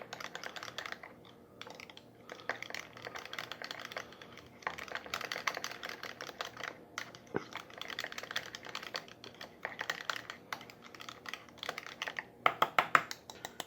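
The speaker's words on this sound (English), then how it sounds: "I'm going to use my tiny, tiny whisk." A tiny whisk beats a Big Mac-style burger sauce in a small bowl, making a steady, quiet stream of rapid clicking ticks that runs for several seconds with no voices.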